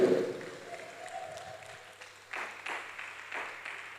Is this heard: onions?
no